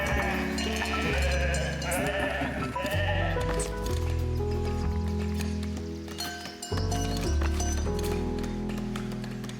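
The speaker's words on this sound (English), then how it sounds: "So many sheep. It's the perfect number of sheep." Sheep in the video game Foundation bleat repeatedly in a dense, overlapping flock, with music-like tonal layers and busy game sounds around them, loud and continuous.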